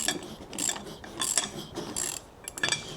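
A hand ratchet wrench tightens small nuts while installing airbag suspension on a 2000 Toyota Tundra, giving close, repeated rapid clicking strokes in bursts with brief pauses.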